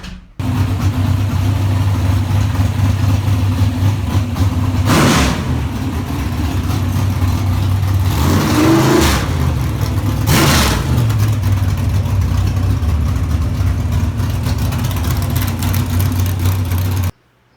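A car engine runs steadily at close range with a loud constant drone, rising in a few brief revving surges before cutting off at the end.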